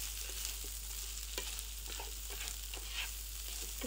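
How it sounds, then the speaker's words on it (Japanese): Food frying and being stirred in a pan at home, a steady sizzle with scattered scraping stir sounds, fairly quiet and with no talk over it. "料理してますよ。 音だけじゃないよ。"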